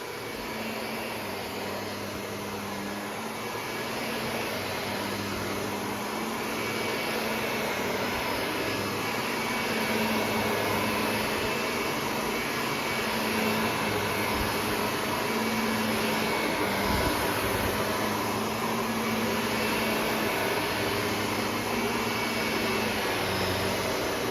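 A Shark Rotator upright vacuum cleaner runs continuously and close by, a steady whining motor drone with a broad airy rush and no pauses throughout.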